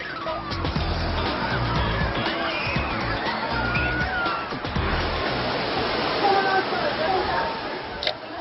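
Waves surging through a crowded water park wave pool, a steady loud wash of churning water with people's voices mixed in throughout.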